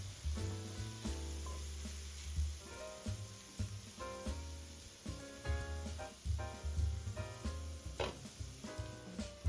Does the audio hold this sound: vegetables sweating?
yes